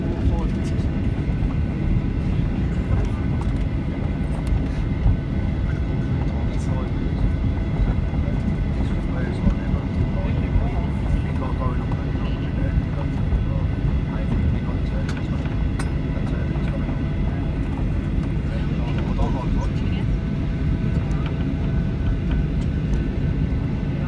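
Inside a Ryanair Boeing 737-8AS(WL) cabin after landing, a dense, steady low rumble of engines and airflow fills the space without letup.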